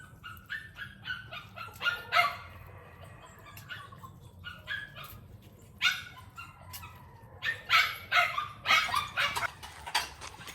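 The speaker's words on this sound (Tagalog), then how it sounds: "Ay, ang mga aso." Several dogs bark in repeated bursts, some sharp and yelping, scattered irregularly across a quiet outdoor background and fairly close by.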